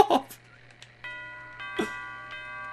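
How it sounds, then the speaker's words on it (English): A doorbell rings inside the video game Little Big Planet 3, giving a clear two-tone chime that repeats a couple of times at moderate volume, with faint background noise. "Oh, someone's ringing the doorbell!"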